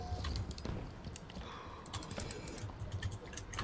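Fast, clattering keystrokes on a computer keyboard, close and fairly loud, in irregular bursts with brief pauses, heard alone with no voices.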